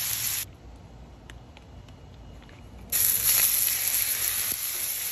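Chuck steak sears in a hot pan, a bright sizzling hiss that drops away briefly, then surges back loud and steady, close up and without talk.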